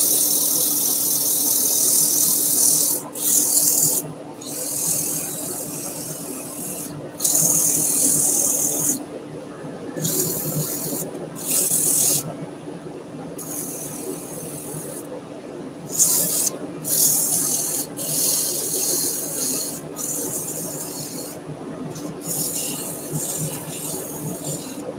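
A turned wooden potpourri pot is sanded with 150 grit paper against the spinning lathe, a hissing rub in repeated bursts with short pauses over a constant motor hum.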